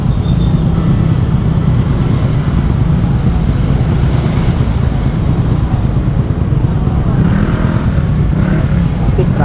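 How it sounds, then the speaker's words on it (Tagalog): Road traffic of cars and motorcycles idles and moves near a stoplight at the Mindanao Avenue and Congressional crossing, a loud constant engine drone with occasional revving and passing vehicles, close to the microphone. "Traffic."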